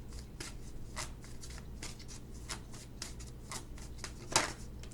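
Tarot cards being shuffled by hand, a close, quiet series of crisp riffling bursts repeating at a quick irregular rhythm, with one louder snap near the end.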